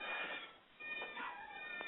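A cat meows at home among other animals at a rescue sanctuary, with bird calls in the background; several short, fairly close meows across a couple of seconds.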